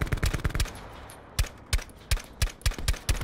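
Gunfire rattles in Call of Duty Blackout, an opening burst of rapid shots, a short pause, then a steady string of evenly spaced, loud, punchy single shots.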